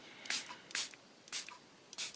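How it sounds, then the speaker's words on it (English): Water sprayed from a spray bottle onto inky paper coated with gesso, four short hissing spritzes at a steady pace, close and fairly soft, with no talking. "you can add a little bit more interest by just giving it a spray with some water"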